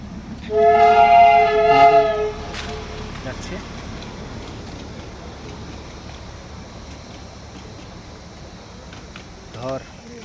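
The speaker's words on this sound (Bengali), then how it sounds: "এখন ওই আর একটা টয় ট্রেন যাচ্ছে" A toy train horn of the Darjeeling Himalayan Railway sounds for a couple of seconds at Batasia Loop, followed by a low, steady rumble of the train rolling past at a distance below.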